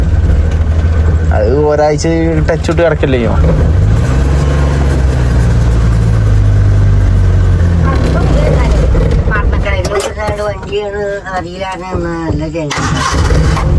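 A car is driven along with its engine running as a steady low hum throughout, while people inside chat over it in close, loud conversation.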